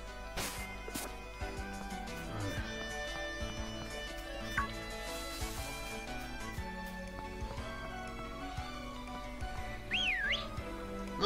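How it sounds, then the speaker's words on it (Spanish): In Pokémon Shield, a character whistles at the press of a button, a brief rising and falling whistle near the end over busy game music and effects. "pulsando el botón se silba"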